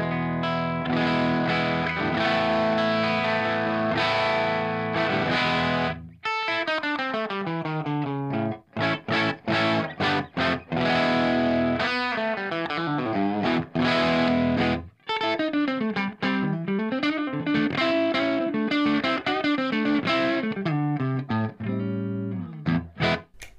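Les Paul electric guitar played through a Marshall amp with a fuzz pedal bypassed, a loud, continuous run of ringing chords and single-note lines with short pauses and no talking.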